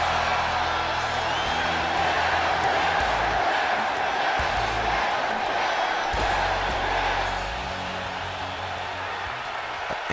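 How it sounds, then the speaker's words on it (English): Crowd roars and screams throughout a WWE 2K19 wrestling game match as Daniel Bryan works the arena, a dense, loud, steady wall of cheering from start to finish. "He's got the crowd out here screaming"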